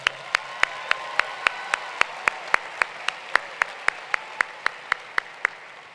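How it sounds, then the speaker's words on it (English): Single sharp claps ring out at a steady, unhurried rhythm, about fifteen evenly spaced strikes over a soft hall background during applause at a North Carolina A&T State University winter commencement ceremony; no voices are heard. "Let's give them all a round of applause."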